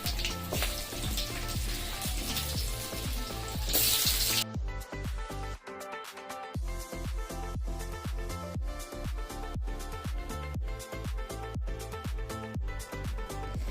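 Prawns and potatoes cooking in a pan give a short sizzling burst at first, followed by a long stretch of repeated sharp clinks and taps of a utensil against the pan, with only a faint frying hiss beneath.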